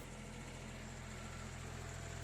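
A tractor engine holds a steady, low idle-like hum at about 1700 rpm, driving an Arpal AM-120TR branch chipper through its PTO at 540 rpm, unloaded and not yet warmed up; the drone runs continuously at moderate level with no voices.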